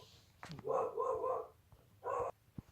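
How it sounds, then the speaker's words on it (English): A pet dog indoors barks at a mail carrier passing by: two muffled bursts of barking, the first longer and the second brief, at moderate volume over quiet room noise. "My dog barked because the mail lady came by."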